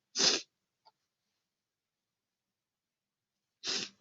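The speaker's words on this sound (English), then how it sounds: "sorry, I'm about to sneeze" Two sharp human sneezes, close and fairly loud, separated by about three seconds of near silence with a faint small sound in between.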